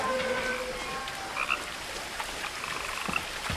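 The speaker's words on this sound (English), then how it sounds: "I hear a frog. Is there a frog?" Frogs croak in What Remains of Edith Finch, a few short throaty calls scattered through a steady outdoor hiss like light rain, moderately distant, with no voices.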